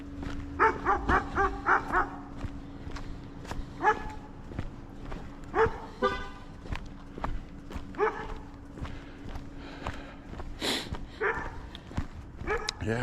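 A big dog barks repeatedly in uneven bursts on a night walk, moderately close, over footsteps and a steady background hum.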